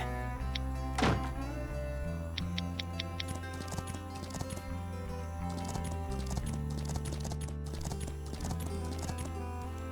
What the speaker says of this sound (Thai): และเสียงเท้าครับ